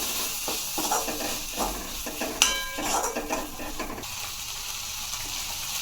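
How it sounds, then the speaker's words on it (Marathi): Steamed green mung beans are stirred into fried spices in a pan, with intermittent scraping and clinks of a spoon against metal over a soft sizzle, fairly close and moderately quiet. "यामध्ये आता वाफवलेले हिरवे मूग टाकून घेऊ, हे व्यवस्थित मिक्स करू।"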